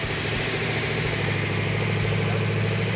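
A Dodge Challenger engine idles steadily up close, a continuous low rumble with an even mechanical hum and no voices.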